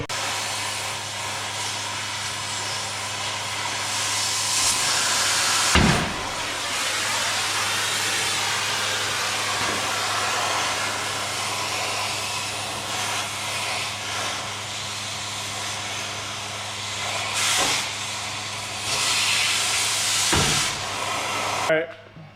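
Cutting through the leaf spring U-bolts on a plow truck, a loud continuous grinding hiss that runs steadily for the whole stretch, with a few brief sharp bursts and dips along the way.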